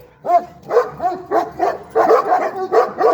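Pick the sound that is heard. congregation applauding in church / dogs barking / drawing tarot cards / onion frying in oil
dogs barking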